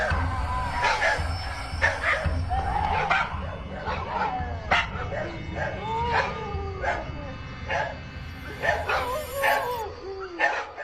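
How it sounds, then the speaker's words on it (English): Several nearby dogs bark together on a pitch-black street at night, a steady run of sharp overlapping barks and yips throughout, fairly loud against a low rumbling background. "the nearby dogs are barking in unison"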